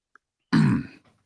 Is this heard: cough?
yes